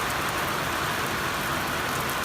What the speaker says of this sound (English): It's a deluge.